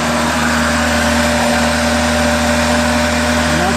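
A Honda Civic engine, throttle held open by a wedged screwdriver, idles high around 2,500 RPM with a loud, steady mechanical hum and whine that holds constant throughout.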